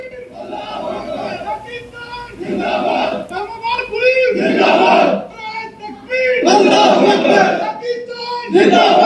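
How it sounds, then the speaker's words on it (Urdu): Police officers shout in unison in repeated bursts, a loud crowd chant of religious and patriotic slogans rising and falling in waves, with brief pauses and crowd noise between bursts. "اہلکاروں نے نعرے تکبیر، اللہ اکبر، پاکستان زندہ باد کے نعرے لگائے ہیں"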